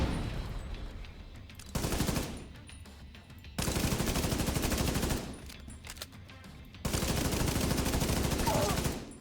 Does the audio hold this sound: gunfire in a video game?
yes